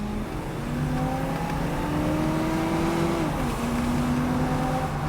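A 1978 Corvette 25th Anniversary pace car with the L82 V8 and Rochester carburetor pulls hard up to 60 mph, its steady engine note climbing in pitch, briefly dipping at a shift, then rising again, loud and continuous from inside the car.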